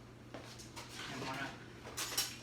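A small spoon clinks and scrapes against a bowl of sticky banana-almond blondie dough, a few light metallic taps and rattles close by, ending in a brighter clatter.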